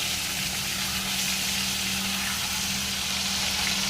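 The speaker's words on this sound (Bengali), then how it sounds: "মাছটা ততক্ষণ এদিকে ভাজা হোক" Katla fish frying in hot oil in a home kitchen, giving a steady, dense sizzle that runs evenly throughout with a low hum underneath.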